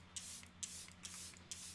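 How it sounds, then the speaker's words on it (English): Charlotte Tilbury Airbrush Flawless setting spray misted from its bottle in four quick, close hissing bursts at an even pace, with no voice heard. "I picked up the Charlotte Tilbury, the Airbrush Flawless Setting Spray."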